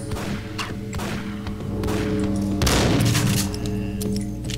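Gunfire in the Max Payne PC game, a rapid burst of shots and heavy thuds trading back and forth, loud and close, with a denser volley midway.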